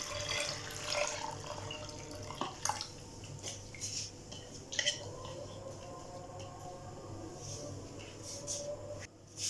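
Reserved chana dal cooking water poured into a chicken and dal shami kebab mixture, a soft steady trickle and splash lasting several seconds with a few light clinks, moderately close and alone.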